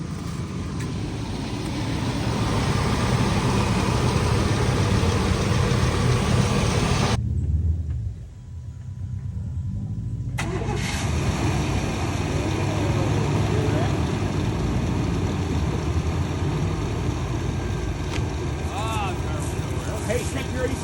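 A $500 OBS Ford truck engine idles with a steady, rumbling drone, broken by a few seconds of near-quiet midway before the sound resumes. People talk over it.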